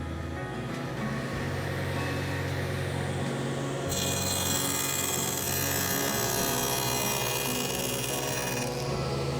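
A dado blade, unsharpened this season, cuts wood for beehive entrance reducers, producing a continuous loud whirring saw roar that grows harsher and brighter partway through.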